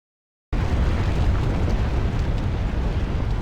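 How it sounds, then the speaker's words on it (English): An earthquake in the video game Cookie Run Kingdom rumbles in abruptly after a brief silence, a loud, deep, continuous roar that holds steady to the end. "This is no ordinary earthquake."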